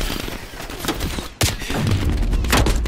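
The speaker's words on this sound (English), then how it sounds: "Kids really pull out AKs, bro." AK rifle fire in Call of Duty Black Ops Cold War crackles in rapid, dense bursts that run almost without a break, with a sharp louder report in the middle.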